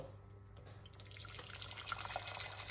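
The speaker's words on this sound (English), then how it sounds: "Let's get hot water." A quiet trickle of water running from a tap, faint and steady, with small clinks in the background.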